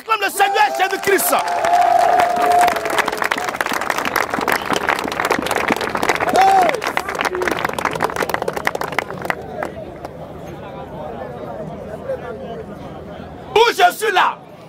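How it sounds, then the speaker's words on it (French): A crowd acclaims Jesus Christ with loud, dense applause and cheering that fill most of the stretch, ease off toward the end, then flare up again in a short final burst. "Attention, on acclame le Seigneur Jésus-Christ."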